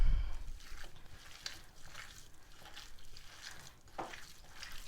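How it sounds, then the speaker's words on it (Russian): Minced meat for dumplings kneaded by hand, wet squelching and slapping in rhythmic waves, close and fairly quiet, with no talking. "И тут же начинаем замешивать"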